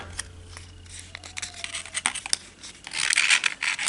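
Paper is folded and creased for an origami collapsible bed, giving close, dry scratching and rubbing as the crease is pressed sharp, with a crinkling burst near the end.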